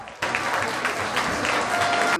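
A crowd applauds after an under-15 youth football match between SPS and Stade Montois Football, the clapping bursting in suddenly and holding steady and close to the end.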